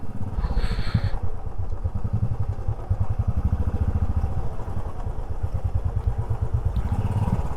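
A motorcycle engine putters steadily and loudly nearby on a forest road through Bandipur Tiger Reserve, Karnataka, with a continuous rhythmic low throb and a brief higher whine at the start.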